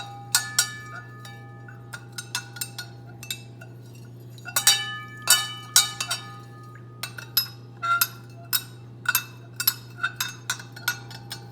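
Salt is stirred into a mixture in a container, with a run of sharp clinks and taps of a utensil against the vessel, irregular and close, over a low steady hum.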